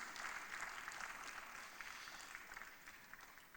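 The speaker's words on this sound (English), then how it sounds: "can you give Professor Bath Naji another round of applause?" Gathering at a public lecture and award ceremony claps for a professor, a faint, distant, even spread of applause that thins out near the end.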